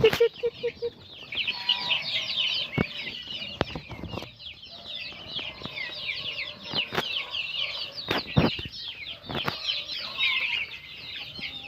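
A flock of guinea fowl clucks and chatters constantly in rapid, harsh calls, with occasional sharp knocks and thumps nearby.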